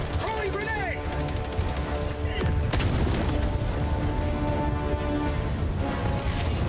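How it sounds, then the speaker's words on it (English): A grenade goes off in the video game Helldivers 2, a sharp burst among ongoing gunfire and rumbling battle noise, with a player talking over it. "Rolling grenade!"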